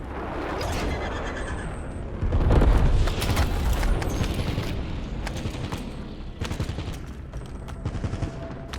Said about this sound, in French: Tacom, envoyez le napalm à ses coordonnées.